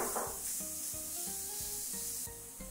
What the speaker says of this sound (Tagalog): magigisa lang tayo dito ng bawang at sibuyas ulit